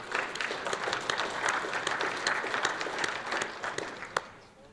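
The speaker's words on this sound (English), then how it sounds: "So can we get a little round of applause for all of that?" A conference audience at a soil health coalition annual meeting gives a short round of applause for board members and staff, moderately loud steady clapping that thins and fades near the end.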